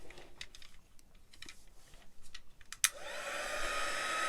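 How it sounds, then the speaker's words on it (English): A heat gun blowing hot air switches on after a few light clicking and tapping noises, then settles into a steady, loud, close whooshing roar that continues to the end, with no talking. "And then my heat gun"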